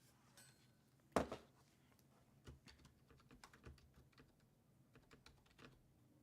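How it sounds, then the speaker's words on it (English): Quick, light keystrokes tap on a computer keyboard, a fast irregular patter with one louder clack near the start, quiet and close. "As I'm trying to quickly type out without looking up at the screen"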